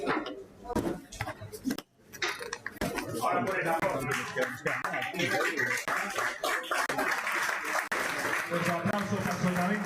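Applause breaks out at a Galician spearfishing club championship event, starting as scattered claps and a brief gap before swelling into fuller clapping, mixed with some clattering and nearby voices.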